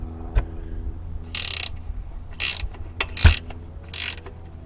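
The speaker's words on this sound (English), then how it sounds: "So we're going to try to lift this jack up." A car jack being raised with a ratcheting mechanism under a Chevy HHR in a driveway, heard as four separate short bursts of clicking at close range, with a few single knocks between them.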